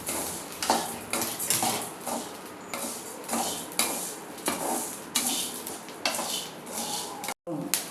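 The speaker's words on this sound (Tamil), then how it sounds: "நல்லா வறுத்துறோம்" Coriander powder ingredients dry-roast in a pan, with repeated scraping and stirring strokes in a steady rhythm, metal clinks and a light sizzle underneath. The strokes sound close, and one brief dropout comes near the end.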